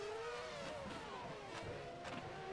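A race car engine at full throttle on the Monza circuit in the racing game Race07, a steady high-pitched drone with pitch sweeps as the car works through a chicane, heard close and alone.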